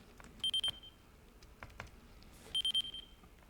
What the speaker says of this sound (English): That's why we're getting the beep